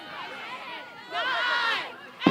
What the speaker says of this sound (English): There it is, the crowd counting down.